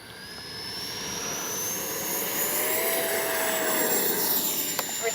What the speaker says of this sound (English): let's take up third flight technically, first time on the channel, the E-FLITE VIPER 70mm.